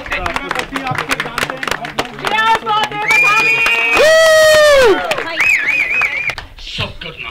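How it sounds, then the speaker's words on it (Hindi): Audience applause for minister Ajay Bhatt at a film grand premiere, with sharp claps crowding the first few seconds before sustained tonal sounds and voices take over. "एक बार जोरदार तालियां होनी चाहिए ऑनरेबल अजय भट्ट सर के लिए"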